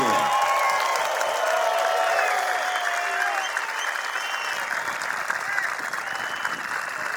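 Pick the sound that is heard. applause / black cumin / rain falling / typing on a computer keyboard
applause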